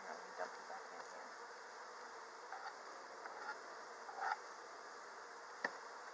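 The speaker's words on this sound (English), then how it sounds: "There's a bunch of bees hanging out in the corner" Honey bees buzz in a hive box in a faint, steady drone, with a few soft taps and rustles. No voices are heard.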